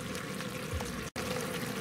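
Sesame seed oil poured into an Instant Pot of bulgogi sauce gives a continuous trickling, splashy pour close up, broken by a very brief dropout partway through, with no voices.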